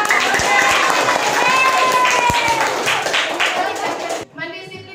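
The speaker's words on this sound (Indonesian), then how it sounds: "Berikan tepuk tangan kalau senang." Classroom of students clapping together in a dense, lively burst of applause with voices mixed in, the clapping stopping abruptly near the end.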